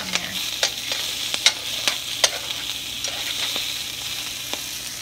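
Bone-in chicken thighs frying skin-side in a hot, smoking pan with plenty of fat, a steady close sizzle broken by sharp spitting pops and a few scraping stirs, no voices.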